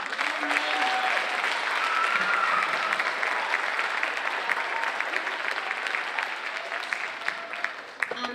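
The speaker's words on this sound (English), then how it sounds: "give them a round of applause." An audience at a school district's State of the District event applauds, with loud sustained clapping across the whole stretch and a few scattered cheers.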